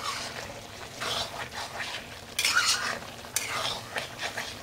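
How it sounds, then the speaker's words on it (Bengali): Mutton curry being stir-fried in a kadai, a spoon scraping and clinking against the metal pan with soft wet stirring and faint sizzle, a few sharper knocks on the rim, close and moderately quiet. "এবার আরও কিছুক্ষণ আমি কষাবো এখানে কড়াইয়ের মধ্যে"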